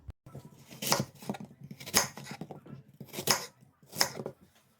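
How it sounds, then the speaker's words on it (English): Four sharp knife chops land on a cutting board about one second apart, each with a crisp crunch, close and clear in a quiet kitchen. "Going to cut up our apple into small chunks"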